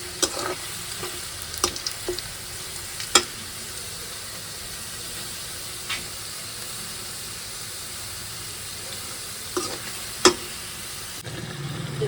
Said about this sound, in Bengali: আর একটু ভাজা নেবো, মানে একটু বাদামি কালো করে দিলে পেঁয়াজটা গ্রান হয়ে যায়